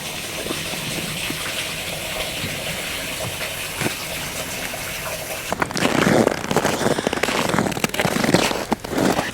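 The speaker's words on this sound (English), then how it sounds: "I can hear water." Running water near melting ice, a steady gushing rush that grows louder and rougher partway through, with no talk.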